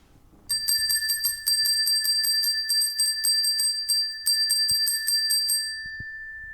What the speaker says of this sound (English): Please follow the sound of this bell and come and join us.